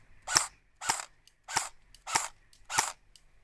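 An E&L AK74 airsoft rifle fires BBs in five sharp, evenly spaced single shots about half a second apart, each a crisp snapping crack close to the microphone, with quiet gaps between.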